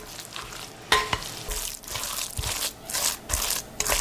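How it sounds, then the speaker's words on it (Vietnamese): Seasoned meat being mixed by hand with fried shallots and garlic, with a close, wet squishing and stirring that comes in irregular pulses, plus one sharp knock near the start. "Trộn thịt lên cho đều."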